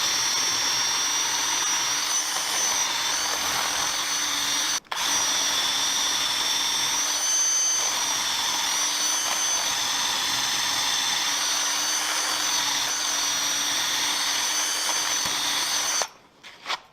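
A power drill runs steadily, enlarging a hole in wood for an anvil stand, with a loud, continuous high whine close by. It pauses briefly once and stops near the end.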